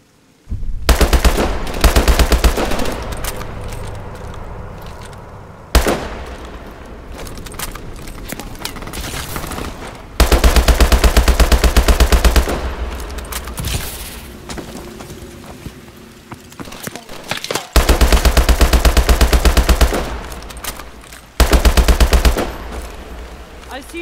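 Sustained automatic gunfire in the Call of Duty: Advanced Warfare video game, loud dense bursts repeating in several long stretches with brief pauses between them.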